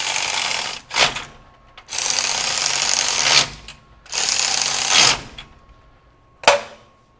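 A DeWalt DCF510 20V sealed-head cordless ratchet runs in three loud, sustained bursts of about a second and a half each, with a sharp click between them and a final short snap near the end.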